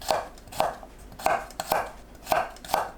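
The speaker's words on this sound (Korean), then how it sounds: "마늘을 편으로 썰어줍니다." A knife cuts garlic cloves into thin slices on a cutting board, giving six evenly spaced crisp taps, each with a soft crunch. They are close and alone, with no talking.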